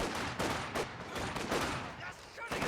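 Rapid bursts of machine gun fire crackle in a Company of Heroes 2 battle, with overlapping volleys and mixed gunfire at moderate distance under a faint layer of talk.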